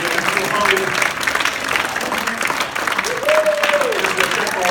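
An audience claps in a steady burst of applause that carries on without a break, with speech and crowd voices mixed in above it.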